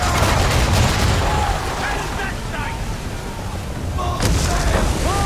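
Ship cannons fire in a naval battle in Assassin's Creed III, loud booming blasts rolling over dense battle noise with shouting voices throughout.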